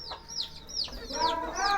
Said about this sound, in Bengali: আমাদের দেশি মুরগি